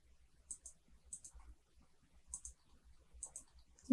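Computer mouse clicks in quick pairs, four crisp double-clicks spread across a quiet room, close to the microphone and alone without talk.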